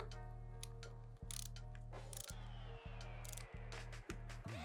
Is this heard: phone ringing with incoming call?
no